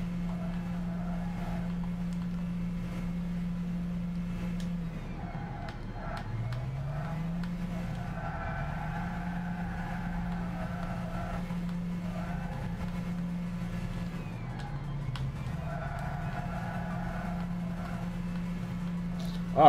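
Racing car engines in Gran Turismo 6 while overtaking a red Ferrari: a continuous, moderately loud engine hum with small pitch dips, under someone talking casually.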